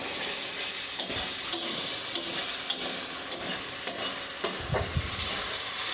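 Spices are stir-fried in a pan, with a loud, close sizzle and a series of spatula scrapes and knocks at irregular intervals, plus a heavier clatter near the end, and no voices.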